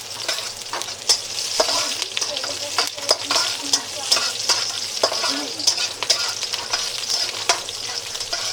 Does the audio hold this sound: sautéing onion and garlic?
yes